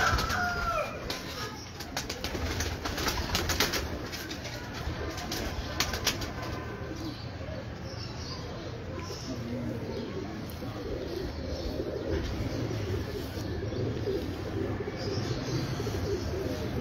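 Pigeons on a rooftop in the Ravi Road area coo and flap their wings, with a cluster of wingbeats early on, soft murmuring calls throughout and faint voices in the background.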